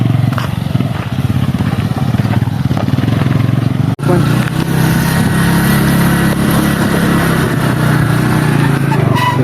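A motorbike ridden along the road to a hill temple: a loud, close, steady engine drone with wind buffeting throughout, a brief dropout partway, and no clear talk.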